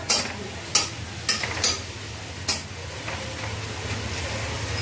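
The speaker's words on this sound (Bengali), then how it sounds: "দেখো মোটামুটি পাঁপড় ভাজা হয়েই আসছে।" Papad frying in a pan gives a soft background sizzle broken by a handful of sharp clicks and scrapes of utensils against the pan, close by and fairly quiet.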